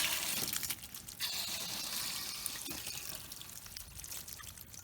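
Water runs from the pressure relief valve of an RV hot water tank as the pressure is released, a faint, steady trickle and pour that continues for several seconds.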